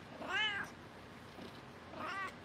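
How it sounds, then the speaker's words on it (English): A small pet cat meows twice outdoors, two short, clear calls about one and a half seconds apart, fairly close but not loud. "Beautiful cat."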